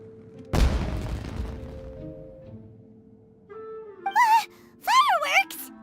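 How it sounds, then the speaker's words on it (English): A deep fireworks boom in Genshin Impact goes off once near the start, followed by a crackling tail that fades out. After a quiet gap, voiced exclamations from game characters come in. "Was that an explosion? It sounded like fireworks."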